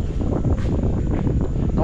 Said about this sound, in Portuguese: Tá um vento bem forte aqui também